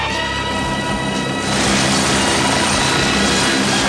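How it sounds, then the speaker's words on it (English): Loud, steady helicopter rotor and engine roar, close by and continuous, growing broader and more intense partway through. "There are 3 helicopters. They landed over there."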